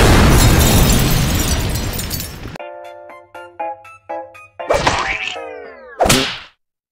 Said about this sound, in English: Then the grenade exploded!